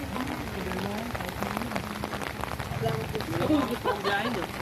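Rain falls on a house rooftop, a continuous dense patter beneath people chatting casually throughout.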